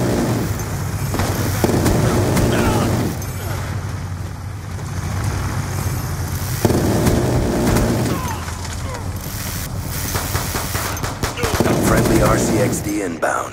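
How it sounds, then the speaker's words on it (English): The Death Machine minigun from Call of Duty Black Ops 2 multiplayer fires in long sustained rattling bursts with brief pauses between, loud and close, over constant battle noise and game radio chatter. "Death machine spinning up."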